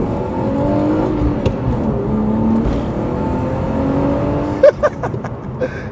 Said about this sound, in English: put my foot down occasionally just so you can really get the revs high